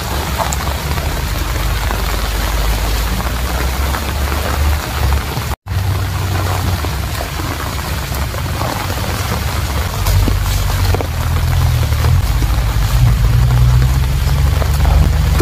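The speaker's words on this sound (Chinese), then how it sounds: "现在一下雨了" Steady rain shower pouring at night over an open vegetable field during a thunderstorm, a dense, continuous hiss of drops on leaves and ground with a low rumble underneath, growing slightly heavier toward the end.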